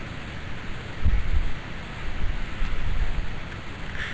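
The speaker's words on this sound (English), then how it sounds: "It's very windy out here." Strong wind buffeting a microphone outdoors at a night-sky imaging setup, a continuous rough low rumble with gusty swells rising and falling, loud and close, with no voices.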